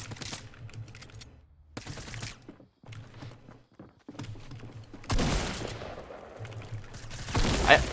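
Bursts of SMG fire in Fortnite, several short rapid volleys separated by gaps, loudest near the end, with game footsteps and some faint voice-like sound in between.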